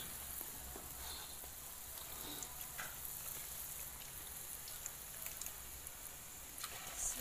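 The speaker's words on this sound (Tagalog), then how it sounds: "Sa kumukulo ang mantika." Oil sizzles and crackles quietly in a pan, a soft continuous frying hiss with scattered pops.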